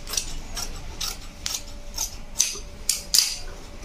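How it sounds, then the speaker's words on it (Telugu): Scissors cut through petticoat cloth in a series of crisp snips, roughly every half second with a couple of sharper ones toward the end, close by against a faint steady hum, with no voices. "ఇది కొంచెం ఇలా సమానం కట్ చేసేసుకుంటాం."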